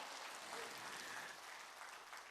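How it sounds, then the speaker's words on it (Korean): Church congregation applauding during a sermon, a steady broadband patter of hand claps held at even loudness throughout, fairly faint overall with a trace of voice beneath. "박수"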